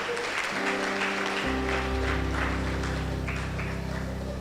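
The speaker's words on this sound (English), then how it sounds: "A round of applause for her, please." An audience at a prosthetics and orthotics induction ceremony applauds the best student in clinicals, with steady clapping running under loud, sustained music.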